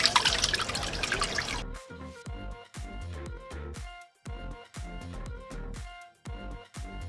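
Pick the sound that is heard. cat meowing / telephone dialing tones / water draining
water draining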